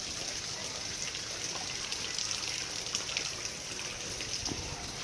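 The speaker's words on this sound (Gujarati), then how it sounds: "બહુ એટલે બહુ આવે છે વરસાદ" Heavy rain falling steadily with water trickling and dribbling nearby, a dense continuous wash of drops throughout at a fairly even level.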